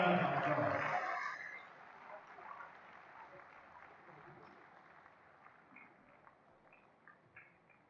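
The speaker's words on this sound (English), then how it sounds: "Another round of applause." Audience applause at the Nigerian Academy of Education annual congress after a keynote, a loud burst of clapping that fades quickly within about a second, leaving faint scattered claps and quiet room noise.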